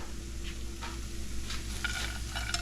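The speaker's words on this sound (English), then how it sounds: "And just kind of mix it around a little bit, get it to absorb some of the flavor." Ramen noodles tossed with nuts in a hot pan, stirred with soft scraping strokes over a steady low sizzle and a faint hum, close by with no talking.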